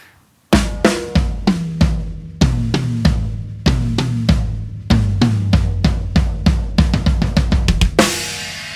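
A drum fill of rapid 16th notes alternating between snare and floor tom strikes rolls out loud and close, accelerating into a dense flurry before a crash cymbal wash at the end.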